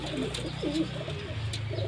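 Pet pigeons coo softly after a bath, low repeated throaty calls close by over a faint background hum.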